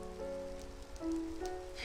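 Soft, steady rainfall in the Minecraft video game, a faint hiss of drops sitting under sustained musical tones that play throughout.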